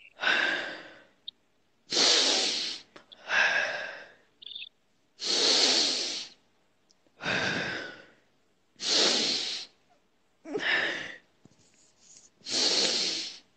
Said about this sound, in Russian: Давай, дыши глубже. Не останавливайся, дыши глубоко.